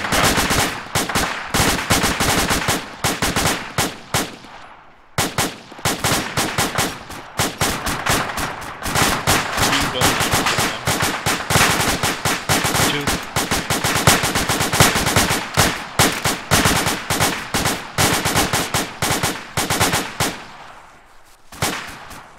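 Machine gun fire at a contact in an open field, sustained loud bursts of rapid rounds continuing for over twenty seconds with only brief pauses.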